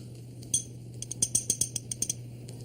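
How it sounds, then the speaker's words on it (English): The back edge of a knife taps an empty drinking glass in about a dozen light, ringing clinks, single strikes first and then a quicker, uneven run, quiet and close with no talk. "Put your ear in the empty glass and tap on it with the back edge of a knife."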